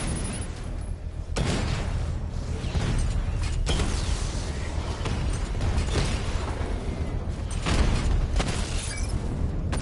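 A Mamba drone takes damage and blows up in the video game Batman Arkham Knight, heard as dense, loud continuous combat noise with several sharp bursts and booming explosions, and no voices over it.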